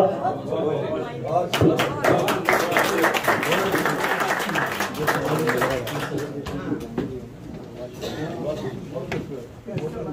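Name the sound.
audience applause after a mushaira recitation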